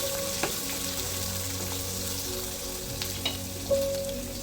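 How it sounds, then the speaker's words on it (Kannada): Chopped onion frying in oil in a pan for semiya upma, a steady close sizzle throughout with a few soft clicks and a brief scrape of stirring near the end. "ಇದು ಚೆನ್ನಾಗಿ ಫ್ರೈ ಆಗಬೇಕು"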